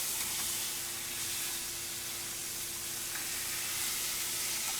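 A prosciutto-wrapped cutlet fries in a hot pan, giving a steady, close sizzle with a constant hiss that does not let up, and no one speaks.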